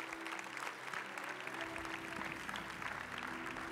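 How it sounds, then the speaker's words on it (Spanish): A church congregation claps for Jesus in a continuous, fairly quiet wash of applause that holds steady from start to finish, with faint voices mixed underneath. "Clap your hand for Jesus."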